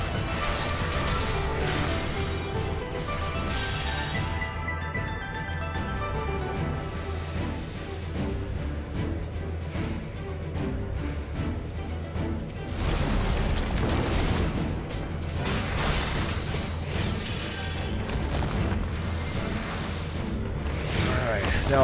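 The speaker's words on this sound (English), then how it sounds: "people are operating the cannons" Cannons firing in Final Fantasy XIV during a boss battle, heavy booms rolling one after another under a steady bed of game music and effects, with a voice talking over it.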